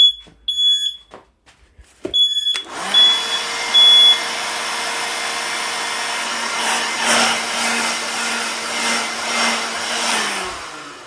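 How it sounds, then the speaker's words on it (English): Arc welding on a metal table frame inside a shed: a few high smoke-alarm beeps come first, then a steady, loud buzzing hiss with a low hum that runs for several seconds before cutting off. "So I just finished welding. I need that. Probably shouldn't weld in the shed."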